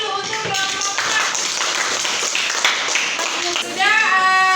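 A classroom of students claps for a student group after its presentation, brisk, close hand claps filling the room with a few young voices calling out over them.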